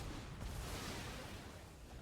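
Storm's Wrath spell effect in a Magic: The Gathering video game, a dense, rumbling blast of noise with heavy low-end roar that sustains evenly for the whole two seconds.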